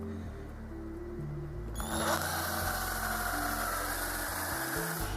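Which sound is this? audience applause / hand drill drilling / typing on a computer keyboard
hand drill drilling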